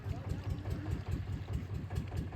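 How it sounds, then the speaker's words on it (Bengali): A boat engine throbs steadily at low pitch close by as the boat reverses at a river landing, rumbling continuously with a faint wash of wind. "ব্যাক ব্যাক করছে তো নৌকাটা পিছনের দিকে ঠেলে নিয়ে যাচ্ছে"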